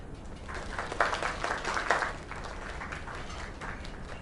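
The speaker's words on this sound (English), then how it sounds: "Another round of applause." A bar crowd celebrates a new place with a round of applause, a dense, steady wash of clapping that swells around the middle and holds at moderate loudness throughout.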